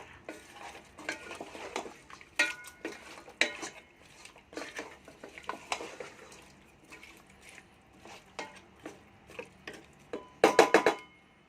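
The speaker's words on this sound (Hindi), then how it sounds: "अच्छी तरह इनको मिक्स करेंगे।" A utensil stirs mutton and potato curry in a pot, giving irregular close scrapes and clinks against the metal, ending in a loud rapid burst of clattering.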